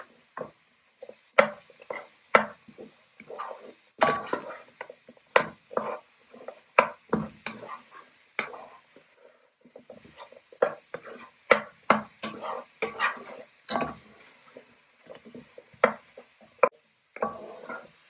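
Onions and garlic sizzle softly in a pan while a utensil scrapes and stirs them in irregular, sharp strokes, the stirring clatter standing out over a quiet background hiss.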